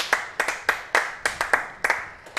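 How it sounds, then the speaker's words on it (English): Sparse clapping for a medal presenter at an athletics championships, a handful of sharp, separate hand claps roughly every third of a second, close and fairly quiet. "Ladies and gentlemen, big round of applause for Thomas Roach."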